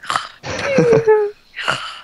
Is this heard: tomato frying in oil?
no